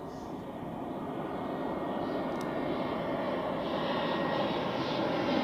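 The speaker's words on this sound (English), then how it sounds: "First we have Edelweiss with an A320 from Munich" Edelweiss Airbus A320 jet arriving from Munich at Zurich Airport, a steady loud engine roar that builds slightly as the aircraft nears, continuous and without pause.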